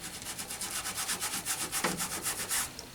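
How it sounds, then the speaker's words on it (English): Toothbrush scrubbing laundry gel into a shirt collar, a fast steady series of close bristly rubbing strokes, about five per second, continuing throughout with no speech. "I'm using the toothbrush instead of putting it directly on the collar"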